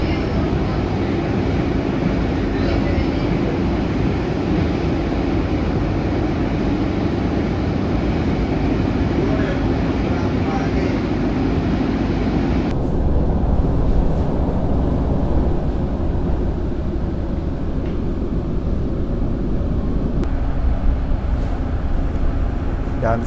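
Madiun Jaya executive passenger train rolling steadily along the line, a continuous broadband rumble with rail noise heard from inside the carriage, holding an even loudness for the whole stretch.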